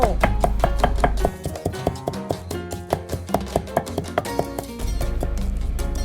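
A knife chops ingredients for a Thai green mango salad on a board, a steady series of crisp, close strikes, with a low rumble under the start and end.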